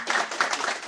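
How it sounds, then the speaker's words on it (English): A brief burst of audience applause at a PyData Ann Arbor tech talk, a dense steady patter of many hands clapping together, fairly loud, with no talking over it. "let's give her a round of applause"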